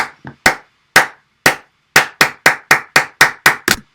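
Sharp hand claps land in a rigid, perfectly quantized pattern, spaced evenly at first and then quickening into a tight regular run, loud, dry and isolated.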